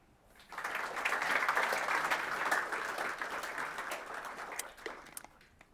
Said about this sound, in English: please give an extra loud applause